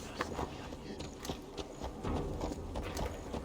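Horse hooves clip-clopping through a town in Assassin's Creed Valhalla, an uneven walking rhythm of soft thuds close by, with no one speaking.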